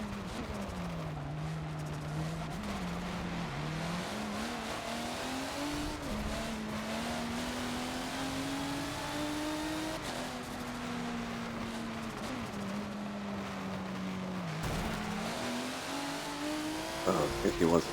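Race car engines in the Forza video game at VIR Grand West drone continuously, one car's pitch rising and dipping through shifts as other prototypes roar nearby, with occasional tire noise and someone talking over the racing.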